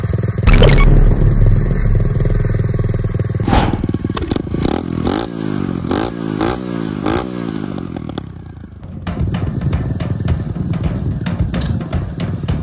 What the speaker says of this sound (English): Learning how to wheelie a pit bike.